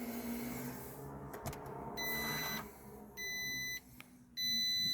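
Door-open warning chime in a Peugeot 108, sounding as steady high-pitched electronic beeps in separate bursts inside the car, fairly loud and close, with quiet background noise between them.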